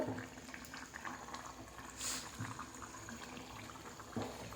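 Thick-cut ridge gourd pieces simmer in water in a pan, giving a soft continuous bubbling hiss with occasional small pops, close by and low in level.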